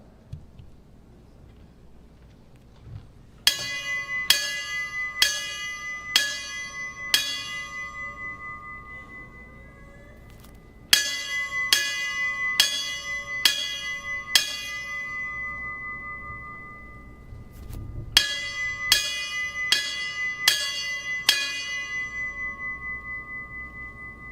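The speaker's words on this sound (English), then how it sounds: "the bells toll their last alarm" Memorial bells at a national fallen firefighters service sound a last alarm in three measured groups of five clear metallic strikes. Each strike rings on briefly over a quiet outdoor background.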